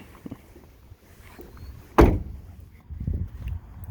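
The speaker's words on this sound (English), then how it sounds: "Nice solid closing door though still." A door on a demolished diesel work truck with an LLY Duramax, sitting in a junkyard, shuts once with a single solid thunk midway through, framed by quiet creaks and rustling before and after.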